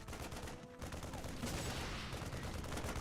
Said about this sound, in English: watching a Marine shoot rocks